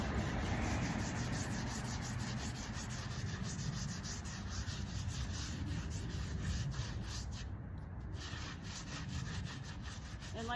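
A brush scrubs a gravestone in steady, rapid back-and-forth strokes, a close, continuous gritty rubbing that carries on evenly throughout with no talk.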